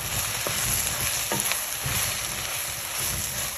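Ridge gourd and milk curry with chilli powder is stirred in the pan over a continuous sizzle, with soft spoon scrapes at a few points and no talking.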